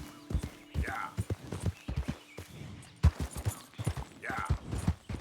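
A horse's hooves clip-clop at a walking pace in Red Dead Redemption 2, close and distinct, with a couple of snorts or whinnies among the steps and a voice talking over part of it.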